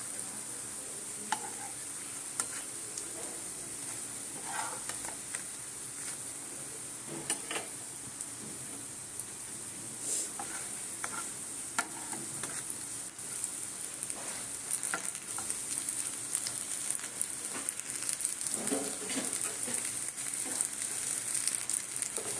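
Drumstick flower and mustard flower fritters fry in a shallow layer of light oil, giving a steady, close sizzle with scattered crackles and pops that runs throughout.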